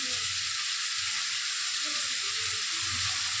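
Tomatoes sautéing in a pan for a fish curry make a steady, even sizzle, moderately loud and close, with a faint low rumble and a soft voice in the background.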